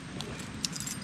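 Keys jangling in a motorcycle belt bag, a short metallic rattle with a few bright clinks, close and fairly quiet against a low background rumble.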